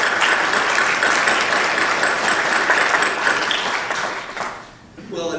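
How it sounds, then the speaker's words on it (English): A conference audience claps in a full round of applause that fades out after about four seconds, and then a voice begins speaking. "if you would join me for just a second, giving them a quick round of applause"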